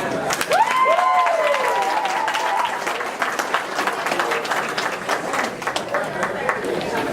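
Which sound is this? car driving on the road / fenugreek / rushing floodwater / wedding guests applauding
wedding guests applauding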